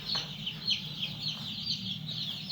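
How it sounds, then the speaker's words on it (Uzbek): A brood of three-day-old Adliyevskiy chicks cheeps continuously, with overlapping high, thin peeps repeating quickly at moderate volume and no voices. "Adliyevskiy jo'jalarimiz xudo xolasa 3 kunlik bo'ldi"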